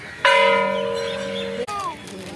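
A large bell at the Wagheshwar Shiv temple in Wagholi, Pune, is struck once, close and clear. Its bright metallic tone rings and slowly fades for over a second before a faint knock follows.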